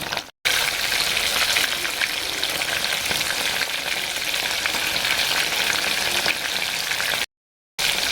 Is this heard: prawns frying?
yes